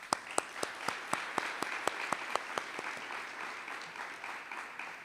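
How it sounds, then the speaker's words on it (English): A crowd at a middle school ribbon cutting ceremony applauds the students, distinct claps starting crisp and rhythmic, then thinning into a softer scattered patter that fades toward the end, with no voices. "I think we should all give the students a round of applause"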